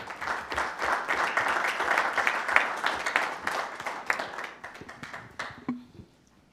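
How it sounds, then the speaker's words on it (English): A round of applause at a neighborhood council meeting, a small group clapping steadily and then tapering off into quiet room sound. "A round of applause again, too, please."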